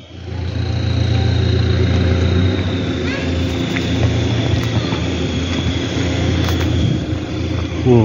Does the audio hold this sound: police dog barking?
no